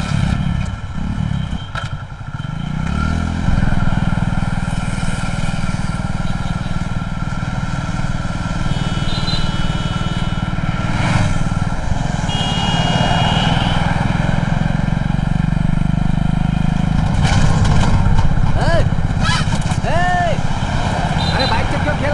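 A motorcycle engine drones steadily close by, with a few throttle surges and rattles, under raised voices arguing on a street.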